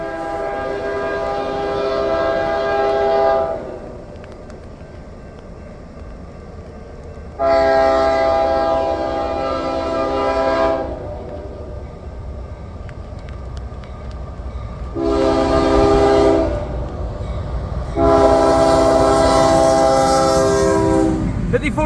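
A CSX GE ES40DC locomotive hauling an intermodal train sounds its first-generation K5HL horn in four long, loud chords, with rain and rumbling rail noise steady underneath at night.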